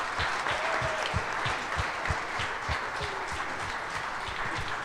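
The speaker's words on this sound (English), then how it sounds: "How about another round of applause for the" Sustained applause from an audience honoring a wrestling team at a live event, with rhythmic claps standing out near and steady across the whole stretch over a dense crowd wash.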